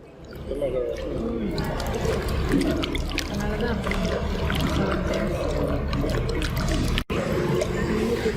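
Water runs and splashes steadily while aloe vera gel is washed by hand, a continuous wet wash that lasts the whole stretch beneath ongoing talk.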